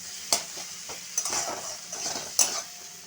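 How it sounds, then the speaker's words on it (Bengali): Tomatoes frying with a little sugar in a pan for a hilsa curry, stirred with a utensil: soft sizzling broken by a few sharp scrapes and clinks of the spatula against the pan, close up and with no talking. "কেন টমেটোগুলো দিয়ে আমি আরেকটু ভালোভাবে ভেজে নেব।"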